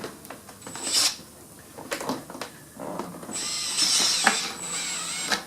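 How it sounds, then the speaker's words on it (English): A screw gun drives screws into the side of a reversible interior door jamb kit, giving short whirring bursts with clicks and knocks of handling between them, then a longer high whine toward the end. "And now we'll go ahead and install the 3 screws on the side here."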